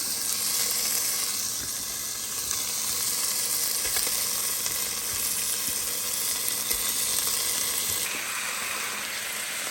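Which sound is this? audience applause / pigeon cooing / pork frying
pork frying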